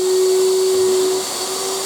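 A wet and dry vacuum cleaner motor runs loudly and steadily on its highest of three speeds with a strong whine, dropping slightly in pitch and level partway through.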